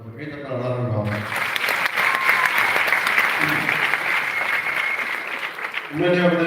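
An audience at an Accsys India icons event breaks into sustained applause lasting several seconds, a dense, loud wash of clapping that rises and holds, bracketed by a speaker's voice before and after.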